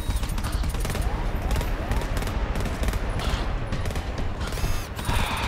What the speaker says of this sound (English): I have 3 shots left with my machine gun.